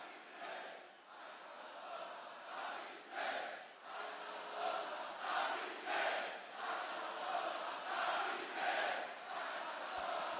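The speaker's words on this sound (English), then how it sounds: "Hear the crowd split with their chants." A wrestling arena crowd at a live SmackDown event chants in rising and falling waves, the audience split into rhythmic, distant-sounding group chants that pulse repeatedly with no commentary over them.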